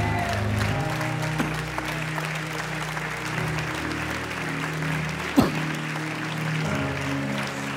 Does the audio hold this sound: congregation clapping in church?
yes